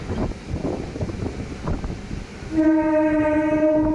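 A MEMU passenger train on the early-morning Narasapur to Nidadhavolu run rumbles and rattles loudly, then sounds a long, steady horn blast that carries through to the end.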